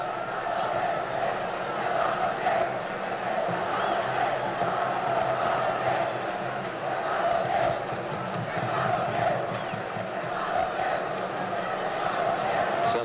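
Santos fans in a packed stadium during a 1972 Brazilian league match against Corinthians make a steady distant roar of cheering and chanting, with a commentator talking over it.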